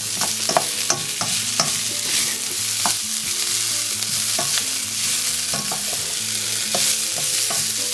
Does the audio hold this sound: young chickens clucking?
no